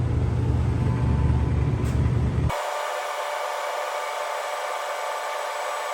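A gas furnace fires up after a new thermostat install: a loud low rumbling blower-like roar runs for a couple of seconds, then abruptly drops to a steady, quieter whooshing hum that continues to the end.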